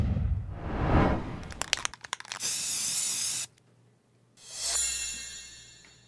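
Bug spray hisses out of an aerosol can in two steady sustained bursts, close and clear. Crackling and rustling come before and between them.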